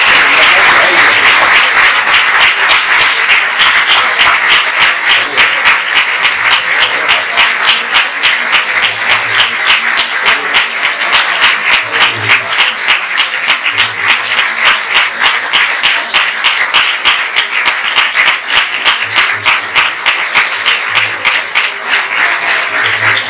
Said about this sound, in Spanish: ahora sí un aplauso mucho más fuerte